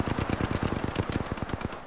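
Rapid automatic gunfire from the video game Apex Legends, a dense, loud, steady burst of shots repeating through the whole stretch with no talking.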